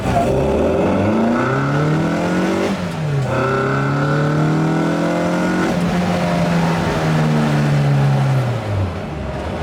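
A small Mk3 Mini Cooper S with about 100 horsepower accelerates hard through the gears, engine rising in pitch, dropping at a gear change, then climbing again, loud and close with no voices.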